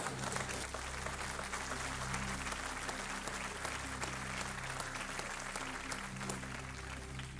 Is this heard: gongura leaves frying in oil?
no